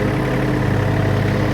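A tractor engine runs steadily at close range while pulling a dethatcher over a large lawn, a continuous low droning hum with no break over the short stretch.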